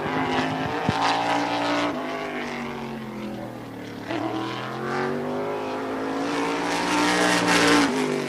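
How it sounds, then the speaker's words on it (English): Race cars at the Wall Stadium Speedway Turkey Derby roar steadily and loudly, engine pitch rising and falling as cars pass on the oval track, with no voices over the continuous drone. "He takes the green flag for lap number 1 in car 73D."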